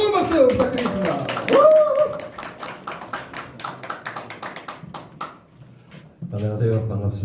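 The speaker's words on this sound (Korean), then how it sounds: "뜨거운 박수 부탁드리겠습니다." Applause for a speaker being introduced at a Korean business seminar: a dense patter of hand claps from the audience. It starts loud alongside a voice, tapers off, and ends with a brief burst of louder clapping.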